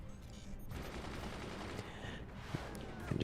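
Howitzer fire in the real-time strategy game Forts, with a dense rolling burst of booming shots and crackling impacts that builds louder toward the end, heard alone.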